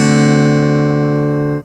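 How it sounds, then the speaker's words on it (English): A D dominant seventh chord sustained alone for under two seconds, a loud, steady ringing harmony that cuts off abruptly at the end, with no voices. "Now the D will be a dominant 7."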